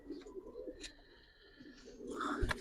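Giribaz and coloured pigeons at a pigeon farm, soft low cooing near and in the open, followed by a sudden louder flutter or knock at the end.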